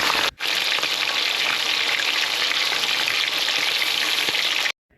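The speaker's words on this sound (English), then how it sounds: "I'm frying the fish 1 to 2 minutes on each side." Fish fries in oil with garlic and Scotch bonnet for Jamaican brown stew fish, a loud, even hiss and crackle running continuously after a brief break near the start, then cutting off at the end.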